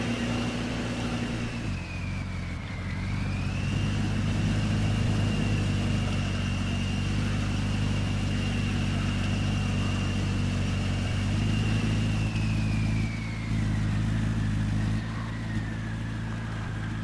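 Custom-built truck engine in SnowRunner revving at high RPM, a loud steady drone held for most of the stretch with a brief dip near the start and another toward the end.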